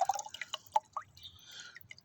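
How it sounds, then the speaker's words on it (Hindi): Liquid fertilizer made from onion peels soaked in water is poured into about a litre of water, giving a few quiet drips and splashes followed by a soft trickling pour, close and alone. "तो इस लिक्विड को अब हम मज़ीद कोई 1 लीटर पानी में डाल देंगे कुछ इस तरह से।"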